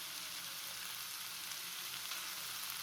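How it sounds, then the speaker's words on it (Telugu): Cumin powder stirred in a hot pan while cooking broad bean stir-fry, giving a steady, faint sizzle and hiss without any speech. "జీలకర్ర పొడిని వేసుకున్నాక ఒక నిమిషం పాటు తిప్పాలండి"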